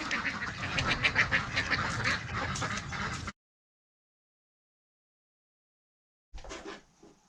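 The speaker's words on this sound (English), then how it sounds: "Ducks." Ducks quacking in a harsh, busy chorus, loud and close, which stops suddenly and comes back briefly after a few seconds of silence.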